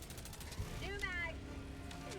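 Weapon magazine reload in the video game Helldivers, a short burst of mechanical clicks and ratcheting metal snaps near the middle, close and crisp over faint game background.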